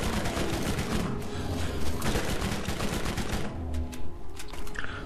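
Dense rapid gunfire from the Borderlands video game, continuous bursts of shots crackling loudly and close for several seconds with no speech over it.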